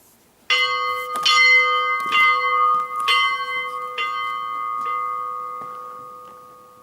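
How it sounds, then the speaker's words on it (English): A church bell rung by hand, about six clear metallic strikes roughly one second apart, each leaving a long ringing hum that decays slowly after the last strike. "There we go, the bell."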